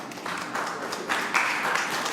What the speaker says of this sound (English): And still prefer that we didn't have applause for.